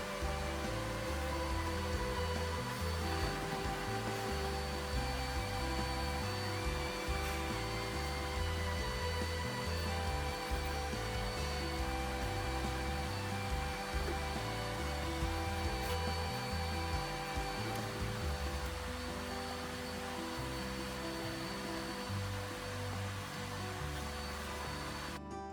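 A vacuum cleaner fitted with an extra-long universal attachment sucks lint from deep inside a clothes dryer's pipe, hose and housing, a steady close motor drone with a dense hum that holds unbroken for the whole stretch.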